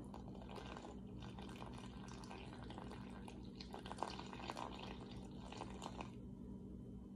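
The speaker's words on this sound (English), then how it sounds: "let's go ahead and add 60 grams of lukewarm water" Lukewarm water being poured into a sourdough starter in a kitchen, a soft continuous trickle and splash heard close up at low level with no talking.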